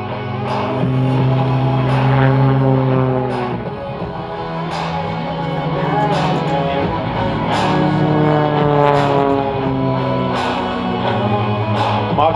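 An aerobatic Extra NG propeller plane performs a horizontal flat spin at an airshow, its engine droning with sweeping pitch changes as it tumbles, loud and continuous, with rising and falling tones throughout.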